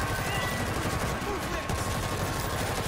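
Sustained gunfire from the World War Z zombie shooter, a dense continuous fusillade of rapid shots filling the whole stretch at close range, with voices talking over the din.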